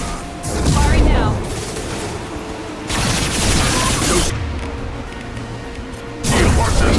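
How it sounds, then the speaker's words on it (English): Bursts of gunfire and heavy impacts from a Mass Effect 2 firefight, loud clustered shots and booms arriving in waves, mixed with voices speaking in the midst of the combat. "Firing now."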